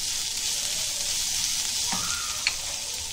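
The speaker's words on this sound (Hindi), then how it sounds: "ये प्याज जो हमने थोड़ा बड़ा बड़ा ये करके रखे थे वो डालेंगे, स्वाद अनुसार नमक डालेंगे, अच्छे से हिलाएंगे उसको, मिक्स करेंगे" Onions frying in a pan give a steady, hissing sizzle, with a brief scrape and clink of stirring near the end, close and without speech.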